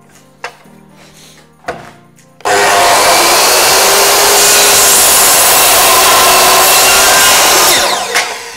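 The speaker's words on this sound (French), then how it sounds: "Voilà, je viens de scier." A few light taps and knocks, then loud, continuous hand sawing through wood starts abruptly and runs steadily for several seconds before stopping.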